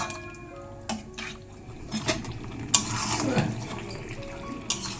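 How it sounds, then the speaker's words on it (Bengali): Mutton being sautéed and stirred in a pan at home, with a spatula scraping and clinking against metal over a steady sizzle, close by and without talking. "এই যে এদিকে মাটনটা কষাচ্ছি"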